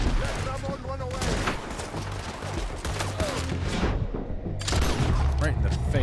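Dense gunfire from the Red Dead video game, with repeated shots and bursts in a busy, loud mix under a steady backdrop of game sound and a speaking voice.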